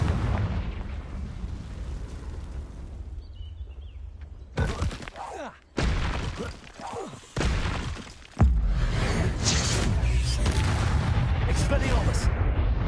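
Blasting-spell explosions from the Confringo spell in Hogwarts Legacy burst out several times in quick succession, four heavy booming hits over a busy game soundscape, each one loud and close.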